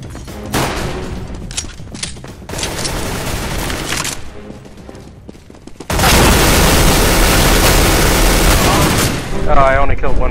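A flashbang grenade goes off in Counter-Strike: Global Offensive amid rapid gunfire, with a sudden loud blast about midway that holds into a sustained roar while players talk.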